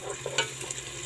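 Noodles with chicken are stirred and fried in a hot pan, giving a close, soft sizzle broken by a few scraping stirs and a brief clatter.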